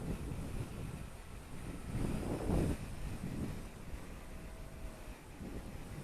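Outdoor wind buffets the microphone while a small RC P-51D Mustang warbird flies, making soft, rumbling gusts that swell near the middle and then ease, with no one speaking.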